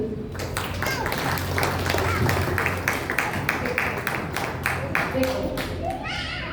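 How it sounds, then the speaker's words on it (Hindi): An audience at a Junior Arya Samaj kids' programme in Bangalore applauds a recitation, a sustained wash of many hands clapping over a murmuring room, with a brief voice near the end. "बहुत जोरदार तालियां"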